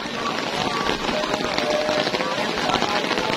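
Heavy rain pours outdoors at a cemetery, a dense, steady patter and hiss over the ground and an umbrella, with people talking over it.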